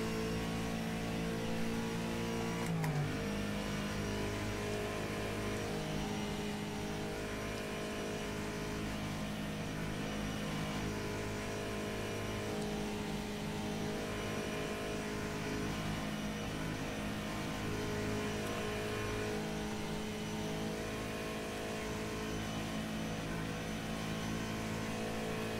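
Engine of a Howston G4 historic race car in the rFactor 2 racing game, a steady droning roar at sustained revs with a brief pitch drop early on, continuous and fairly quiet, with no talking.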